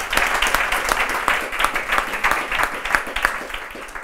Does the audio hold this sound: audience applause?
yes